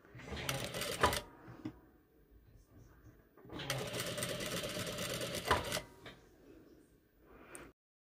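A sewing machine stitches a very fine hem in two steady motor bursts, the second longer, separated by a quiet pause, with light handling clicks between.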